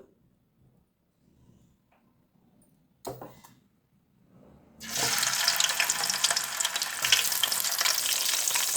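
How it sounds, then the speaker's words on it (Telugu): Sand whiting fish drop into hot oil after a quiet stretch broken by a short clatter, then a loud, dense sizzle of frying takes over and holds steadily. "ఆయిల్ వేడైంది. ఇసుక దొంతులు వేసుకుందాం."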